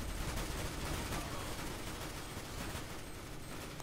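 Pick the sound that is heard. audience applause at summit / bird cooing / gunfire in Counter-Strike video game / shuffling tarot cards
gunfire in Counter-Strike video game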